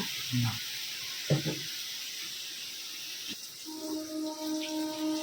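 Onions frying in a pan make a soft, continuous hiss and sizzle in the background, while people talk and kitchen clatter breaks in now and then.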